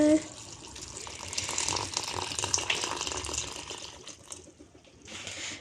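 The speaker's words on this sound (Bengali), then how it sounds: "এটাতে দেওয়া হচ্ছে গরম জল" Hot water pours in a kitchen, a steady rushing splash that runs for several seconds, then thins and briefly picks up again near the end.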